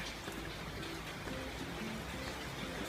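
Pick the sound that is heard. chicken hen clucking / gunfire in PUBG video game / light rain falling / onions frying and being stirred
light rain falling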